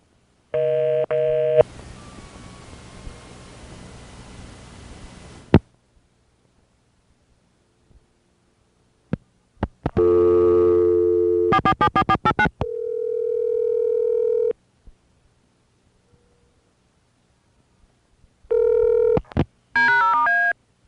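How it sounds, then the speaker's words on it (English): A modem plays a short touch-tone ditty of DTMF dialing tones on an early-1980s phone line, with distinct beeps and bursts alternating with dial-tone-like hum and silent gaps, loud and close. "The little touch-tone ditty at the beginning is being played by the modem"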